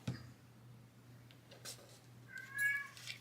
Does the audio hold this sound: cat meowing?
yes